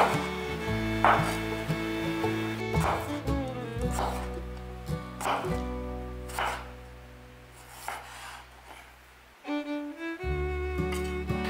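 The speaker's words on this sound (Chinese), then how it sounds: "准备10克的姜，先切片" A knife cuts through fresh ginger on a board, making a handful of short, crisp chops spaced irregularly, partly masked by steady background music.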